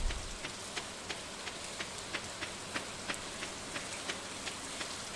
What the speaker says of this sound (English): It's all raining